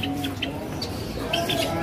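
Caged birds, including white doves, at a bird seller's kiosk give short chirps and calls over a busy, noisy background, a few bright calls popping up near and clear.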